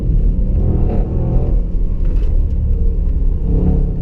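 A 2016 Range Rover Sport SVR engine pulls hard under acceleration, a loud, continuous low rumble and whir heard from inside the cabin with no talking.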